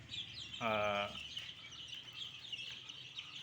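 Native chickens and chicks in a backyard coop, with one loud, close cluck or squawk early on and faint chicken and bird sounds carrying on in the background.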